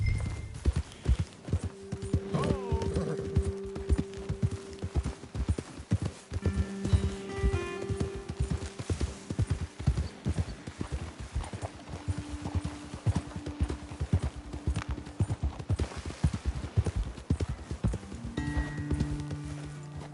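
Steady clip-clop of horse hooves walking on hard ground throughout in Red Dead Redemption 2, with occasional creaks and faint ambient sounds, no talking.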